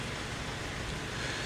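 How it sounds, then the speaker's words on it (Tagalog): Rain from Tropical Storm Kabayan falls on Hinatuan, Surigao del Sur, as a steady, even hiss of downpour that fills the whole moment without a break. "nakararanas pa rin ng mga pag-ulan ang bayan ng Hinatuan sa Surigao del Sur dahil sa epekto ng Tropical Storm Kabayan"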